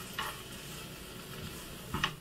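Food sizzles softly in a non-stick pan as a metal utensil stirs it, with a couple of light scraping clicks against the pan over a steady low frying hiss.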